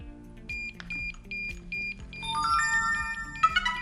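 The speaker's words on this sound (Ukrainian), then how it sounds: "пульт у нас буде пищати, бо він розряджений." Repeated electronic beeping from a DJI RC Pro drone remote controller on low battery, short high tones in a steady pattern, then a rising series of chimes over a low background hum.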